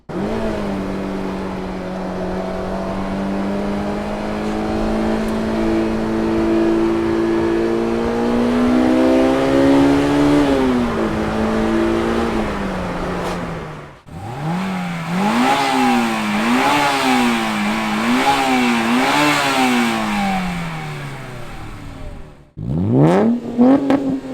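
A 2002 Honda S2000 revs hard while being driven, its engine climbing through the gears in loud, close rising pulls, then dropping off between shifts before surging again.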